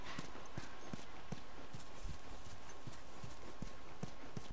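Hooves clip-clop steadily from a horse in The Last of Us, an evenly spaced series of sharp, fairly close thuds over a constant background hiss.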